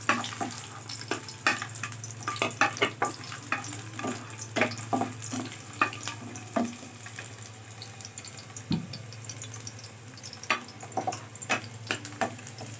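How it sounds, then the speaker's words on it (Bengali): Garlic frying in a pan for aloo bharta gives a quiet, steady sizzle, broken by repeated scraping and clinking stirs of a utensil against the pan, with no talking. "রসুনটা আগে একটু ভেজে নিই।"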